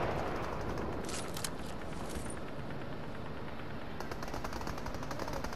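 Rapid, continuous automatic gunfire fills a Fortnite match, dense and loud throughout with a constant rattle of shots and no pauses.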